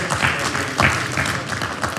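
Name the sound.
applause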